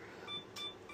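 A camera's self-timer gives a few short, thin electronic beeps, faint and close by, over low room noise.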